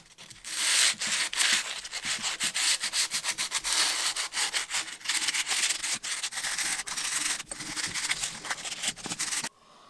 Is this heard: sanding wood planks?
yes